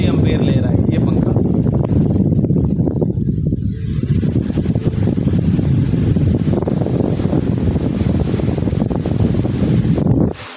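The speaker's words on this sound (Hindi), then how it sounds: "ये हमारा पंखा चल गया" An electric fan runs on a 585-watt solar panel and inverter, giving a loud, close, continuous whooshing rumble that stays steady throughout.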